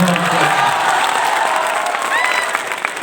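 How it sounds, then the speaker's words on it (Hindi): Loud, sustained applause from the crowd at a Hindi kavi sammelan poetry recital, with dense clapping and a few light cheers throughout. "अमन हिंदुस्तानी, पर आपकी तालियों में जोर होना चाहिए।"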